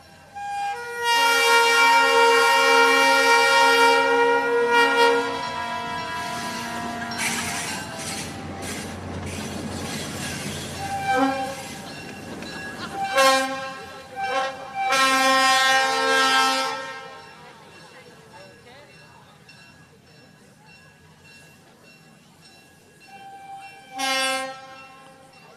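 A lone train engine passes during an outdoor municipal band concert in Peoria, sounding its horn in long, loud blasts with a rumble between them, then short toots as it moves off, with faint crowd voices under it.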